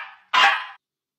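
Small dog giving a single short, sharp bark, loud and close, following a brief higher-pitched tone and then ending in silence.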